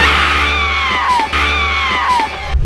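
A woman's shrill screams from the horror film House of Wax: two long, loud screams that swoop downward in pitch, separated by a short break.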